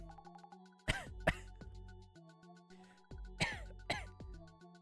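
Several sharp, throaty coughs in two pairs, close and fairly loud, over a steady background of music-like tones from a video game playthrough.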